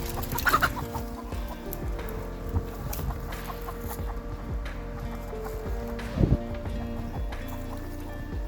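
Meat chickens cluck and squawk busily outdoors by a netting area, with a few louder agitated bursts over a steady background of farm noise.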